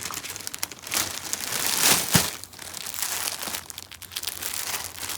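Close crinkling and rustling of a plastic cover as a party-wear shawl is unpacked, continuous handling with a sharper crackle midway and no talk.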